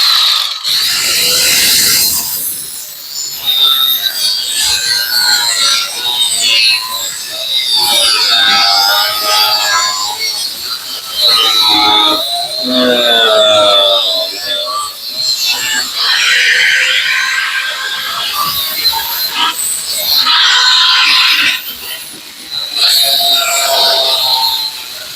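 A power tool cuts through sheet metal during patch repair work, throwing sparks, with a loud, continuous high-pitched grinding whine that runs nearly unbroken for about 25 seconds, briefly dipping between passes.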